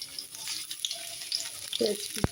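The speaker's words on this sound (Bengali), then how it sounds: "দিয়ে এগুলোকে ভালো করে নাড়াচাড়া করে ভেজে নিব" Chopped garlic and onion sizzle softly in hot oil with a light crackle, punctuated by a few clinks and scrapes of stirring in the pan.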